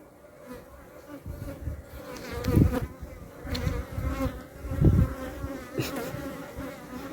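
Honeybees buzz around an open beehive in a beeyard, a close, wavering drone that swells and fades as individual bees pass right by, with no talking over it.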